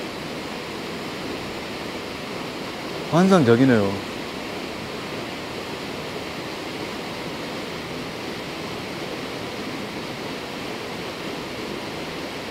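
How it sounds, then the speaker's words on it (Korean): Steady broadband rush of the Eun waterfall (Silver Falls) on Naeyeonsan mountain, a continuous roar filling the whole stretch, with someone briefly speaking over it near the start. "은폭포의 모습이었습니다."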